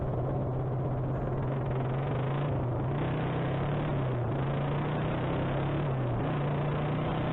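A motorcycle engine drones steadily and loudly while being ridden, its pitch dipping and climbing a few times as the rider shifts up through the gears. No one speaks.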